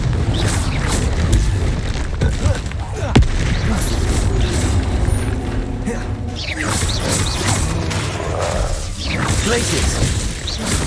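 Spell explosions from Confringo blasts go off in the Hogwarts Legacy video game, with booming impacts and crashing debris layered over constant combat noise, while a voice shouts spell names throughout.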